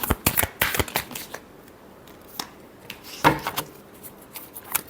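Tarot cards being shuffled by hand, quick riffling and slapping bursts close by, with quieter pauses and a few soft taps between.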